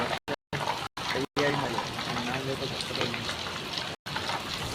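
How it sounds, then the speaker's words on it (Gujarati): Steady rain falls over an open construction site, a continuous broadband hiss with brief dropouts and a voice talking underneath at times. "ધીરે ધીરે વરસાદ ચાલુ જ છે"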